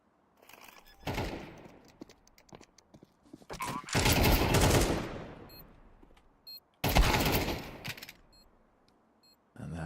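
Bursts of AK rifle fire in a Rainbow Six Siege pro league match, arriving as several loud, dense volleys separated by quieter stretches of in-game ambience.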